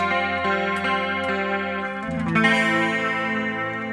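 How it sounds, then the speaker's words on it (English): A clean, sustained electric guitar chord through a BOSS GT-1000 at full volume rings out with shimmering effects, then a second chord is strummed and left ringing; no voices. "And this clean tone sounds really nice at full volumes"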